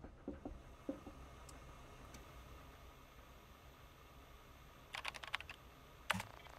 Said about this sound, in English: You need a keyboard to type.